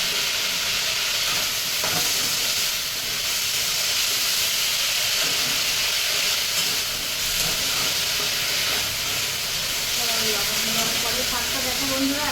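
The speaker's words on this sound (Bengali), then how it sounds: "হালকা ভেজে নিতে হবে পুদিনা" Mint leaves fry with salt in a pan, giving a steady, loud sizzling hiss throughout, with faint clatter and a bit of background murmur near the end.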